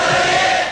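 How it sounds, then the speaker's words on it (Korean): On an archival tape recording, a crowd of citizens lets out a brief, loud roar of shouting in response to a political speech, a sustained wall of voices. "그 연설에 호응하던 시민들의 함성도 고스란히 담겨 있습니다"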